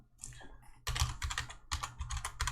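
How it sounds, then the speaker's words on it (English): Keys clatter on a computer keyboard as C# code is typed, a short hesitant run of taps giving way to dense, rapid bursts of close keystrokes with brief pauses between them. "Why am I typing the word function?"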